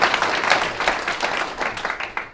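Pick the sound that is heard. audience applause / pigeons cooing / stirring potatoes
audience applause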